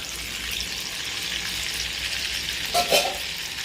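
Steady close-up sizzling of paneer frying in butter in a kadai, with a brief louder crackle and spatter near the end.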